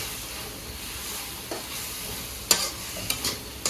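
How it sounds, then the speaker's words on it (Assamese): Cumin and turmeric are stirred in a frying pan, giving a soft continuous sizzle with a few scraping clicks of the spoon near the end; no talking. "এনেকৈ লৰাই বগাই দিম"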